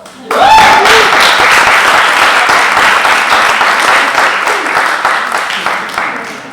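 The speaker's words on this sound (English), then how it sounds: "I was waiting for applause, but I guess nobody knows" Theatre showcase audience breaking into applause, loud full clapping that starts abruptly and slowly tapers off, with a brief voice at the start.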